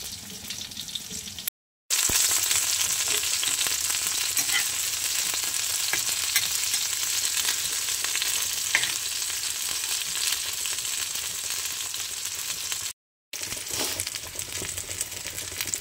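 Fish fry in a pan of hot oil, a loud, close, continuous sizzle and crackle that runs almost the whole time, broken only by two brief silent gaps.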